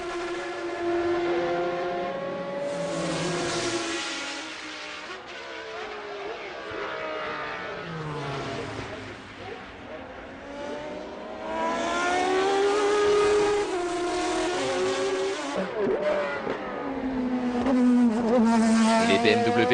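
Racing cars at the 1999 Le Mans 24 Hours, a BMW leading a Toyota and a Mercedes, roar past in a continuous rising and falling engine drone, loud throughout with commentary voices mixed in.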